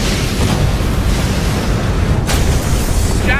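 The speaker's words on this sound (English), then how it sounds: "Massive secondary explosions." A deep, rumbling sci-fi battle explosion with massive secondary blasts roars continuously with heavy low-end booming, followed by a sharp crack and a brief high whine near the end.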